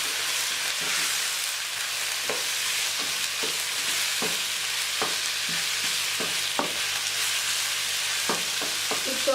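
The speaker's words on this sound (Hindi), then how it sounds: "चिकन हम फ्राई करेंगे और इसके साथ ही हम प्याज डाल देंगे ताकि हमारा प्याज साथ ही फ्राई हो जाए" Chicken and onions fry in a pan for Mecca chicken biryani, a steady soft sizzle broken by repeated light clinks of a utensil stirring, close and moderately quiet.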